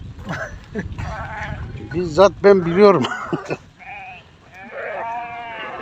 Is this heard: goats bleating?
yes